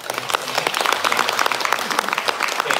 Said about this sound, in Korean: 오늘 저희 법문해주신 정윤 스님께 큰 박수 하면서